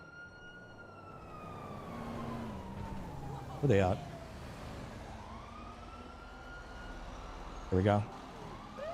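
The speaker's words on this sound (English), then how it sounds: "Listen for the sirens." Emergency vehicle sirens in a video game wail with rising and falling tones in the background while a person talks over them, with two short louder bursts.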